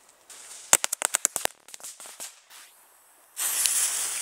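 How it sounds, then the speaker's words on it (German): A firecracker chain crackles through a rapid series of sharp pops, about a dozen close bangs in quick succession, then scattered smaller pops, ending in a steady loud hiss of burning. "Was ist das? Knallkette."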